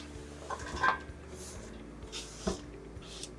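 Onions, garlic and carrots get stirred into butter in a pot, giving soft clinks of a utensil against the pot and quiet squishy scraping, with a couple of sharper taps amid a low background.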